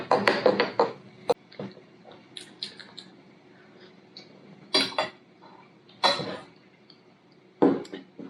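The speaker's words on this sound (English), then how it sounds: "Let me mix in this little foam here." A spoon stirring foam into a cup of Nespresso vanilla custard pie flavored coffee, giving scattered light clinks and taps against the cup, some in short clustered bursts with quiet gaps between them.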